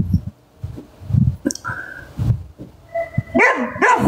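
A puppy barks in short yips and whines, several brief calls toward the end, with background noise and thumps earlier.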